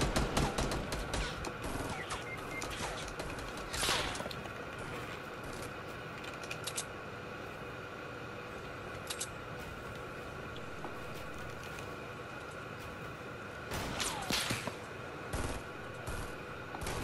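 Gunfire in a battle royale video game with a chug jug, bursts of rapid shots at the start, near four seconds and again around fourteen seconds, over a steady game background.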